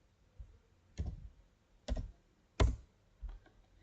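A few sharp keystrokes on a computer keyboard while a ping command is typed into a computer terminal, isolated taps spaced about a second apart in a quiet room, close and fairly soft.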